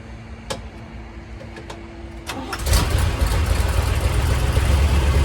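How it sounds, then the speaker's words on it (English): A 1970 Chevrolet Corvette C3 Stingray with original paint cranks with a few clicks and a whirring starter, then its engine catches and settles into a loud, rumbling idle close by, with no talking. "So now we're going to get this car started up."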